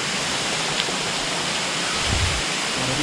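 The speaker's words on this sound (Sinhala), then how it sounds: "අර තියෙන දියල්ල" Kabaragovidola Falls sends out a steady, full roar of falling water that holds level throughout, loud and unbroken, with no voices.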